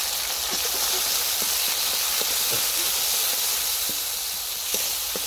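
Onion, green chili, chili powder, coriander powder and salt sizzling in hot oil in a pan for a fish recipe, a steady loud hiss with faint clicks and pops throughout, no voices.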